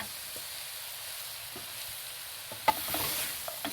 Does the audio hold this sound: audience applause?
no